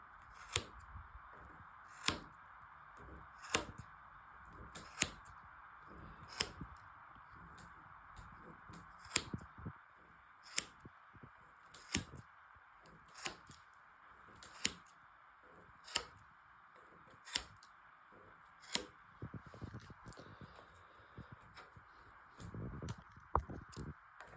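Scissors snip thread strands between nails to free a woven piece from its frame, giving sharp, regularly spaced clicks roughly every second over a faint steady hum.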